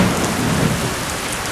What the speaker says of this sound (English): The first drops fall like liquid life, stirring the dry earth